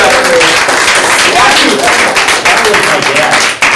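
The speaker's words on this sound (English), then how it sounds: "give a big round of applause" A round of applause at an office meeting, with loud, close clapping from a room of people, dense at first and thinning toward the end, with voices mixed in.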